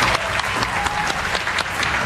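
Audience applause at a televised pool bingo billiards match, a short dense burst of clapping from a studio crowd, steady and close.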